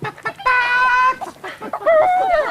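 People loudly imitate a chicken with drawn-out clucks and squawks, two voices in turn with brief breathy sounds between.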